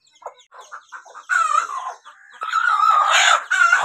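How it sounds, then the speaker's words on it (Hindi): A hen clucking close by, a string of short clucks building into louder, drawn-out squawking calls near the end. "ये हमारी मुर्गी है।"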